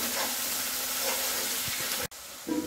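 Wet masala for a masala egg curry frying in a pan while being stirred: a steady, close, dense sizzle that cuts out abruptly for a moment near the end, then resumes with a brief scrape.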